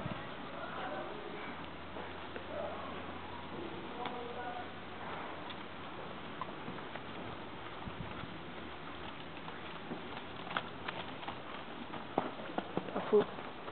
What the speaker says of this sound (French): le cheval il change de pied tout seul